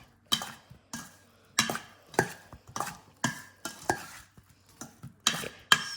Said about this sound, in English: we're going to give all this a very good stir.